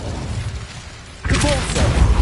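A spell-casting blast in a video game erupts midway after a quiet stretch, a loud whooshing burst of flame that carries a dense roar to the end.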